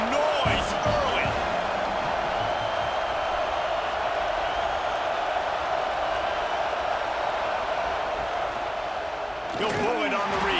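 A large football stadium crowd keeps up a steady, loud roar during an AAF game between the Houston Roughnecks and Birmingham Iron, a dense wash of noise with brief sharp thuds near the start and end.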